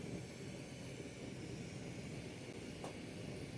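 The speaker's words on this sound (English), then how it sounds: "Turn on the afterburners here." Glassblowing torch burner with the flame turned up high, a steady loud roaring hiss of gas flame that stays constant throughout with no talking.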